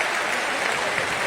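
A large crowd applauds steadily and loudly throughout at a political rally in Aurangabad, Bihar, welcoming the state's chief minister.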